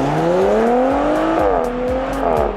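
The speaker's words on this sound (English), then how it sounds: "this one has a twin turbocharged V6 engine located under the bonnet" Audi RS5 Sportback twin-turbocharged V6 engine pulling hard, a loud rising drone that climbs through the gears with brief dips at each shift, heard close and continuous.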